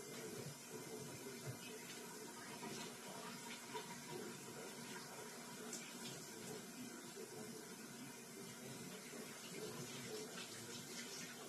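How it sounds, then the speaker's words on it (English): Steady running water from a tap splashes continuously into a sink, a constant broadband rush with no talking. "Use some hot water. Wash your hands."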